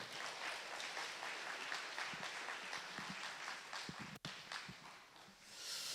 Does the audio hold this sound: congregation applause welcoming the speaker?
yes